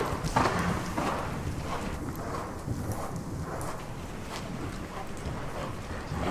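A horse canters around an indoor riding arena at a working, seated canter during a Cavaliers du Jorat dressage lesson in Sottens. Its hoofbeats thud in a loose, continuous rhythm at moderate distance for several seconds, with faint room noise behind them.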